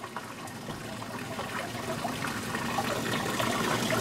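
Water flows around an eddy near a side tributary in a small hydrodynamic sluice model for gold prospecting. It makes a soft, continuous trickling and gurgling that grows slightly fuller over a few seconds, near and fairly quiet.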